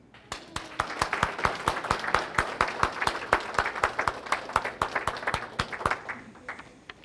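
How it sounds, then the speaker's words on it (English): A senior-center stand-up comedy audience claps for a performer, a small crowd's brisk, fairly even patter of hand claps that swells, holds, then thins out, with a few voices mixed in. "I'd like you guys to just give a round of applause to Anita Bowman"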